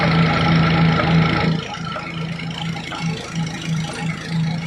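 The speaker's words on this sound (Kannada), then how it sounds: "ಢಗ್ ಢಗ್ ಢಗ್ ಢಗ್ ಅಂತೇಳಿ ಜನರೇಟರ್ ಚಾಲು ಆಗಿದೆ." A generator runs steadily near a sugarcane field where organic jaggery is made, giving a droning, rattling engine hum that is louder at first and then settles lower.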